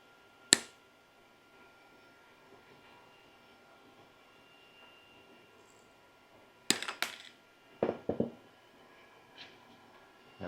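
Diagonal cutters snip through a piece of material during an Easter basket craft, a sharp click near the start, then a few more quick crisp snaps close together later, with quiet between.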